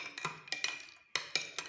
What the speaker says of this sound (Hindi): चम्मच से मिक्स करेंगे।